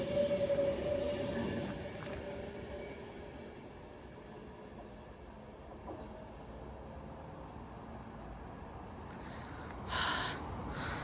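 A train, 39129 City of Stoke-on-Trent bound for London Euston, runs at Wilmslow station with a low, fairly quiet rail rumble that fades and carries a brief high squeal near the end.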